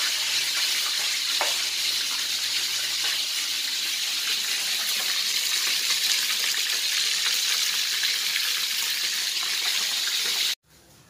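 Mekong river fish frying in oil in a pan, a steady close sizzle and crackle that holds evenly throughout before cutting off abruptly at the end.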